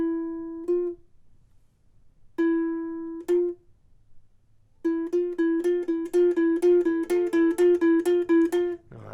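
A ukulele plays a creepy two-note theme: two slow, separated pairs of plucked notes, then the same two notes alternating faster and faster in a rapid build, close and clear with no talking.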